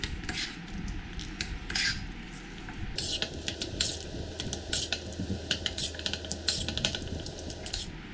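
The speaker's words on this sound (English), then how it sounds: "I'm going to add in our tablespoon of milk and mix that in as well." A spoon stirs a tablespoon of milk into mashed bananas in a bowl, sending up close, repeated clinks and soft scrapes against the bowl in an uneven rhythm, with no voices.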